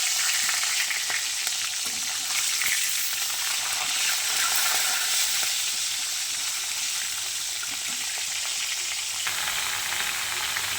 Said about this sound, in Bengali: চলো মাথাটা আগে ভেজে নিই।